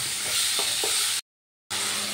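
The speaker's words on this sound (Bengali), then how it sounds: "এবার ভালো করে মশলার সাথে কষিয়ে নেব।" Bottle gourd pieces being stir-fried in masala in a pan, a close hissing sizzle with a few stirring scrapes, cut off by a brief silent gap before the sizzle resumes.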